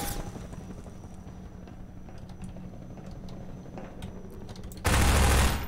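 Gunfire in Half-Life 2 rattles as a steady, dense stream of rapid bursts that holds a moderate level for several seconds, then turns into a louder, harsher blast near the end.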